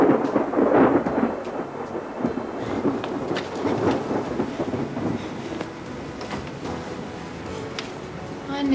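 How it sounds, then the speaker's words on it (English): Thunder rumbles loud and close in a long, rolling peal that fades slowly, with rain behind it. "Is that thunder keeping you awake too,"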